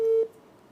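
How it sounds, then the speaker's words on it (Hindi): A single steady telephone line tone sounds as a call comes in on a television broadcast, holding loud for about a quarter second, then cutting off and leaving a faint lingering hum. "एक और टेलीफोन कॉल है, वो ले लेते हैं।"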